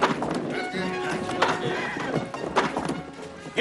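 Horse in an old-West film scene, hooves clopping and thudding amid shouting voices and commotion, with a brief whinny-like cry, all fairly loud and continuous.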